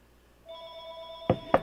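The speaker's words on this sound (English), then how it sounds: "The fucking phone won't shut up." A telephone rings indoors, a steady electronic tone beginning partway in and holding, with two sharp louder knocks near the end; nobody speaks.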